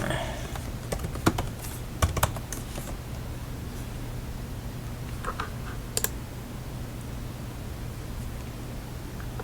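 Typing on a computer keyboard while logging in, a few quick faint clusters of key clicks early and one more burst later over a steady background hiss, with no other sound in between.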